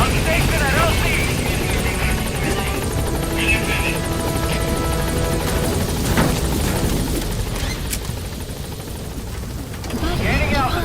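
A helicopter in the Metal Gear Solid V video game drones loudly and continuously with a thick rotor rumble, while a radio voice speaks over it.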